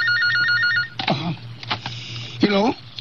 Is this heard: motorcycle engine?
no